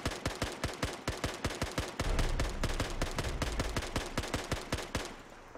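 Rapid bursts of SKS rifle fire in Fallout 4, loud, sharp and close, a steady volley of about two dozen shots with a brief heavier boom partway through, no talking.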